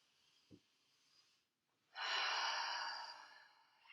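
Deep breathing during restorative yoga: a short sniff through the nose, a pause, then a long, steady, airy exhale that slowly fades, close and quiet with no talking.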